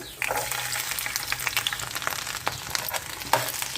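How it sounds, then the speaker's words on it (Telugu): Garlic cloves and curry leaves sizzle in hot oil for mutton kheema curry, a dense, continuous, close frying crackle with light stirring scrapes and no talking. "ఆయిల్ వేడవిందండి ఎల్లిపాయలు గుళ్ళు వేసుకుందాము అలాగే కరివేపాకు"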